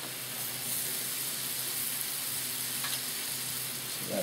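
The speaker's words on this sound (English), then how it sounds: "I'm going to go ahead and set my buns down. My buns have garlic butter that I made on them." Garlic-buttered buns sizzling on a hot Blackstone griddle, a steady, loud, bright hiss of frying that runs unbroken throughout, with a faint scrape near the end.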